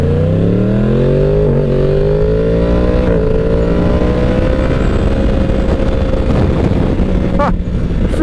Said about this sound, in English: It feels great to be riding a motorcycle.